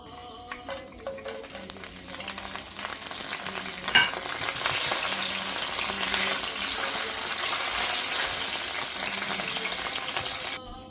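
Whole spices, cloves, green and black cardamom, peppercorns, cinnamon, bay leaf and cumin, dropped into hot oil for chicken curry, a few clinks followed by a rising sizzle that settles into steady, close frying, with no talking.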